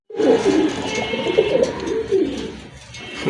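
A pair of black and white Gola pigeons cooing up close, a continuous run of throaty, rolling coos that fades near the end.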